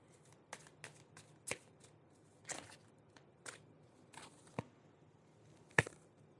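Tarot cards are shuffled and drawn one by one, a string of soft riffling slaps and flicks at uneven intervals ending in a sharper snap, close and quiet.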